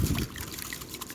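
Salt tipped into tap water to make a brine gives a brief, loud pouring rush at the start, then settles into a faint, close trickle with no talking.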